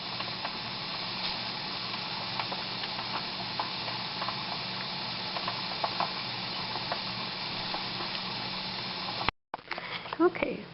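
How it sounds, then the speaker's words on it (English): Steam venting from a pressure canner used for canning peas, a steady soft hiss running for about nine seconds before a brief cut and some faint shuffling. "you can hear the steam starting to vent out"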